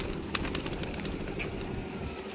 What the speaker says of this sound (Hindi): इनको यहाँ पर से उड़ाता हूँ, क्योंकि यहाँ पे सब सारे उड़ने वाले कबूतर हैं।